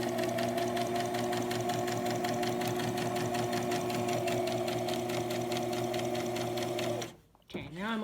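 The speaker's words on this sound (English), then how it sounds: "And I'm going to keep sewing." Close and loud, a sewing machine runs continuously while stitching a fabric face mask, a steady mechanical hum with a fast rhythmic needle chatter that cuts off abruptly near the end.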